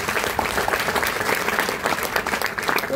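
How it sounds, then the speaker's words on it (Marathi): An audience applauds a Marathi poetry recital with steady, dense clapping that fills the whole moment. "म्हणजे अशाही कवितेला टाळ्या मिळतायत."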